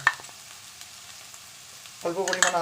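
Garlic paste, dried red chili paste and a little ginger hit hot oil for a Bengali katla fish curry, a faint quiet start giving way to a sudden louder sizzle near the end.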